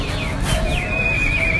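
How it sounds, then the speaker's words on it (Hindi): A mare neighs at the Kasimpur horse fair, a loud, shrill whinny that rises and falls across the whole moment against a steady background of fairground noise. "घोड़ी है ये? घोड़ी है।"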